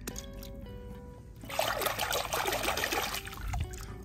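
Water trickles and splashes in an outdoor river as a toy monkey is set down into it, a steady close burble swelling after the first second and a half, with no talk.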